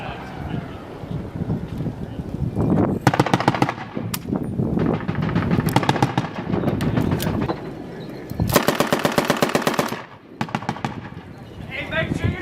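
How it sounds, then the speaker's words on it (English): Machine-gun fire rattles in repeated long bursts toward a compound about 400 meters away in Afghanistan, loud and sharp, with shouted voices mixed in between the volleys. "shooting right now"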